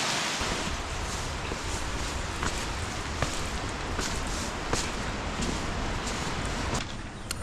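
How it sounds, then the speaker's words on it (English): Wilson Creek, swollen with snow melt running off the mountain, rushes steadily past as a dense, unbroken wash of flowing water heard close by, with no voices. "This is Wilson Creek."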